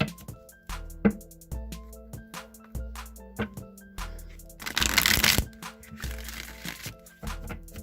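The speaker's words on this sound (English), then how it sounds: "I'm going to shuffle the Rider-Waite deck a few times" Rider-Waite tarot deck being shuffled by hand, with repeated close riffling and soft card snaps in an uneven rhythm, one longer burst of dense shuffling partway through.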